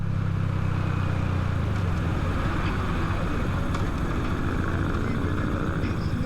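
A Honda Grom motorcycle with a clutch problem being ridden, its engine a steady low drone mixed with rushing wind noise throughout, loud and close with no talk.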